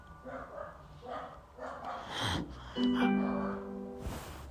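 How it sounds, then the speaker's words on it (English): A dog gives a few short barks and yips, followed by a whimpering, whining sound, fairly close. "That's just my dog."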